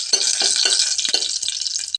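Cumin and fenugreek seeds frying in hot oil, a bright steady sizzle with several quick stirring scrapes of a spoon against the pan, close and loud.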